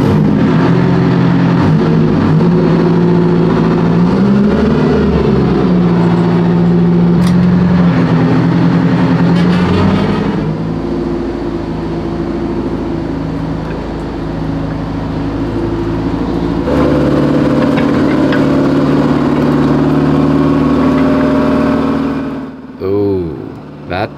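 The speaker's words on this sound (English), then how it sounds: "the boys want to put the engine and transmission into a stress test." A WWII M3 Grant tank's diesel engine running hard during an engine and transmission stress test, a loud, steady rumbling drone that shifts pitch and load and then cuts out near the end.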